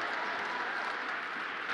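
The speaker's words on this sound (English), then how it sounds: "Let's clap for that." An audience claps in a dense, steady wash of applause that fills the whole short moment at an even level.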